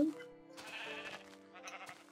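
Sheep bleating in the Minecraft video game, a short bleat up close at the start, then a steady tonal backdrop of game music or ambience with further faint animal sounds.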